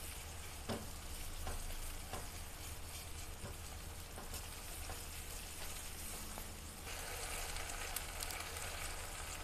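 Reddened onions frying in a pan with ginger-garlic paste, a continuous faint sizzle with soft periodic scraping taps as the mixture is stirred, close with no voices.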